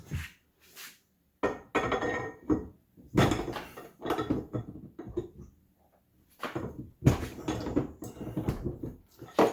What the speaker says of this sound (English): We'll have to get the wrench out to turn this on the rest of the way.